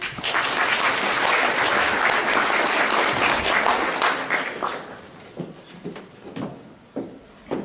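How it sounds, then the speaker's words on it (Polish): A school hall audience at a European song contest final in Olsztyn breaks into loud, dense applause that thins into a few scattered claps and knocks as it dies away. "Prosimy o brawa."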